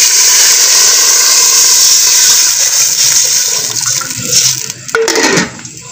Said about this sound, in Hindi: अब इसमें जी डालेंगे पानी, पानी है जी हमारा 4 गिलास